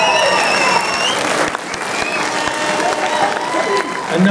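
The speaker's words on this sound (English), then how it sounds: "Let's hear it for the first three, ladies and gentlemen. A big round of applause." Audience applause for the top three finishers at the NABBA Universe 2013 men's bodybuilding contest, dense and steady clapping from a large hall crowd lasting the whole stretch, with voices and cheers mixed in.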